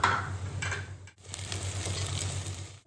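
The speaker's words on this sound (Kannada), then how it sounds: "ರೈಸ್ ಫ್ರೈ ಆಗ್ತಾ ಇದೆ." Rice sizzles and fries in a pan with cinnamon, cloves and cardamom for a Meghana-style veg biryani, a steady close crackle broken by stirring scrapes and a brief pause, with no talking.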